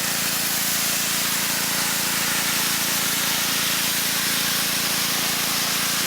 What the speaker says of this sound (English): loosen up as much as possible before we hit it with the pressure washer